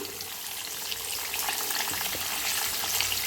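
Fish pieces coated in cornflour fry in hot oil with a steady, dense sizzle and crackle that swells slightly after the first second, close and continuous with no voices.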